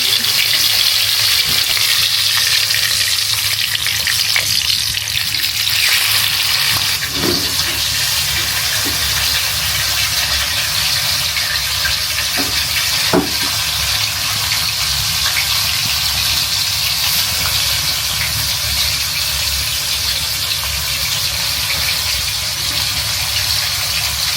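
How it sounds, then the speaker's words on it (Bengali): Fish shallow-frying in oil gives a steady, loud broadband sizzle for the whole stretch, with a few faint clinks over the constant crackling hiss. "এখন আমি মাছটা ভেজে নেব।"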